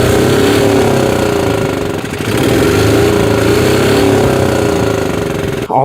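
The engine of a 1988 Yamaha G2 golf cart, fitted with a new primary drive clutch, runs loud and close. It holds a steady, rapid, rattling revving drone for several seconds, with one brief dip.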